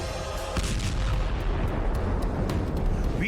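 A Russian tank explodes after an anti-tank guided missile hit, a continuous rumbling roar of blast and secondary bursts with sharp cracking pops, heard from a distance without talk.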